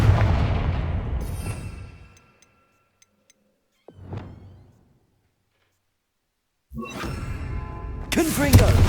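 Confringo blasting-spell explosions from Hogwarts Legacy: rough, rumbling bursts open the clip, a short sharp blast lands near the middle after a silent gap, and louder crackling booms return at the end, mixed with a voice.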